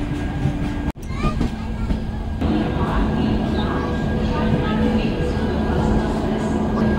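The 22201 Duronto Express runs near Kharagpur with a loud, continuous rumble of wheels and carriages, broken by one brief dropout near the start before the steady rolling noise resumes, and voices talk faintly underneath.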